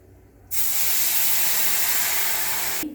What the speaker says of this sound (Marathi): आता मी याच्यात पाणी ओतून घेते.